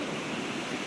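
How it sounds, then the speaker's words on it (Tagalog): Steady wind gusting at a seashore at the northern tip of the Philippines, a dense, unbroken rush close to the microphone, with surf noise mixed in and no talk. "medyo mahangin dito eh"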